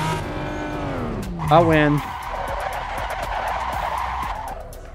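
Race car engines rev and whine through rising gear shifts in an Assetto Corsa drag race, with a sharp tire squeal midway, then a steady engine drone while someone speaks briefly.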